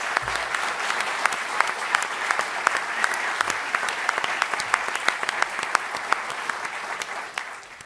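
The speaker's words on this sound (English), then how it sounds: "Give them a round of applause." Steady applause from an audience at a 2023 Toronto mayoral housing debate, dense clapping sustained throughout at even loudness before tapering off at the end.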